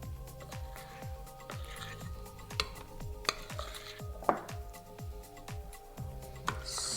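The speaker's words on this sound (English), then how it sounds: "pinch of salt. And now we're just going to stir that." A spoon scrapes and taps in quick, regular strokes as a salted pistachio filling for Dubai chocolate gets stirred in a bowl, close and fairly quiet, with a few sharper clinks.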